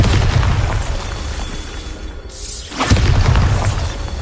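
A Bombarda blasting spell explosion in Hogwarts Legacy: a loud, booming burst with crackling debris, a brief dip, then a second heavy rumbling blast, no voices.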